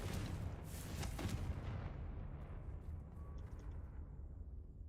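The Confringo fire spell in Hogwarts Legacy goes off with a rumbling explosive blast that booms at first, then fades into a long, low, trailing roar.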